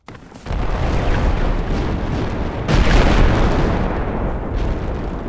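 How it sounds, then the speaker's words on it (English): Enemy gunfire and booming blasts in the military shooter game Project Reality, heard as a dense, continuous wash of distant shots and explosions with a louder surge partway through, no talk. "Hear enemy shots, no visuals."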